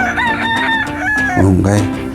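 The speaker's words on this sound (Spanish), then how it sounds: "Un gallo" A rooster crows nearby in a neighborhood, one long rising and falling cock-a-doodle-doo, loud and close, lasting about two seconds and ending on a low drawn-out note.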